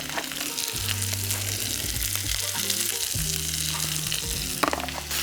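Onions seasoned with salt and pepper sizzle and fry in a hot pan, a steady close crackle with soft stirring scrapes and brief clatters, no voices.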